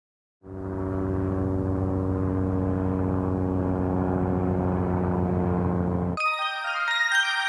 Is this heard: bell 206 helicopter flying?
yes